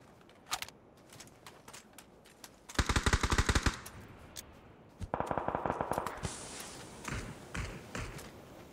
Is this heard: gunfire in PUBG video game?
yes